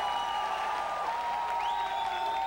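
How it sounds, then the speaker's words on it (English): Steady applause from a crowd at a comic fan awards ceremony fills the space, with whistling and cheering tones rising over the clapping. "let's give her a round of applause"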